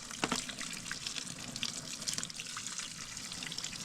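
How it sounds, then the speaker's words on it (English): Hot water runs from a kitchen faucet as a greasy range hood filter is rinsed in the sink. The stream is a steady, close splashing rush with uneven spatters as the water hits the metal mesh. "just rinse it off with hot water"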